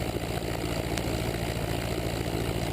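A light aircraft engine runs at steady high power during a magneto check, a continuous loud drone with a pulsing low throb, alone with no talk.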